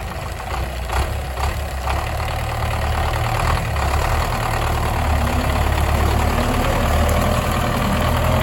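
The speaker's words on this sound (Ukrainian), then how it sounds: "кумові своєму трактор довіряють тільки і Васильовичу, більш нікому" A heavy diesel tractor engine runs steadily and loud, close by, its low rumble constant with a slight knocking throughout, during spring barley sowing.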